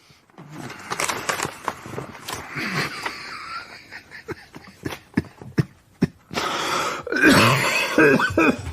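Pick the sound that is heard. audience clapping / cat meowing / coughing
coughing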